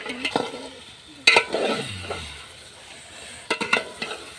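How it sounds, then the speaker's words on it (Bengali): Marinated chicken being sautéed in a pan gives a soft sizzle under clattering stirring, with two clusters of sharp spoon scrapes against the pan separated by a quieter stretch, and no talking. "এটা চিকেন কষা হচ্ছে।"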